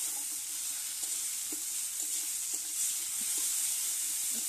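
Cumin paste fries in a pan of hot oil alongside ginger paste and butter, making a soft, steady hiss broken by light stirring scrapes, with no talking.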